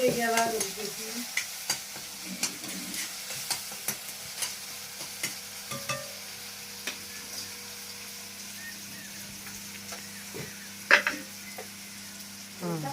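Chopped tomatoes sizzle in oil in a village-style kitchen while a spoon scrapes the pan in regular strokes about once a second, over a low steady hum.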